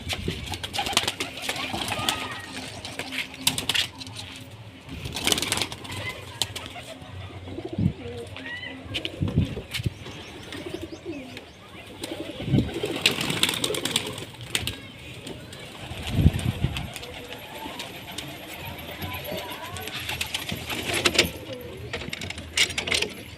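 Pigeons let out of their coop in the evening coo repeatedly, soft throaty calls mixed with wing flutters and rustling at close range, while someone talks intermittently in the background.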